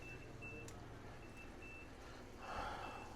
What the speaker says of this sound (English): I'm gonna be turning off this oven alarm